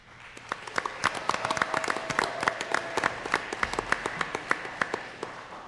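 A campus forum audience claps to welcome a speaker, steady moderate applause with crisp individual claps, fairly close and without talk.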